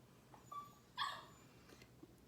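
Maggie the dog, just awake from a nap, gives a few faint high whimpers and a brief yip, distant and quiet in a kitchen.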